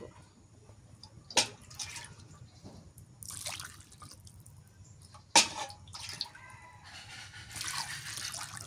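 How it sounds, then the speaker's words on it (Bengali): Water is added to a pot of desi chicken curry, heard as quiet trickles and splashes with two sharp clinking knocks, close by and intermittent against a low background. "পাতলা জল আরো দেওয়া লাগবে।"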